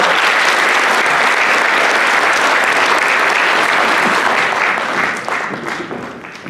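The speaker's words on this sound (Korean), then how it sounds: "박수 부탁드립니다." Audience applause at a Korean community evening in Slovakia, greeting the ambassador as he comes forward to speak: dense, steady clapping from a full room that holds loud and even, then thins and fades over the last second or two.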